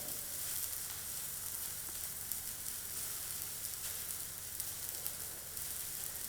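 Fish coated in a curry leaves masala frying in a pan, a steady, close, even hiss of sizzling oil with no talk.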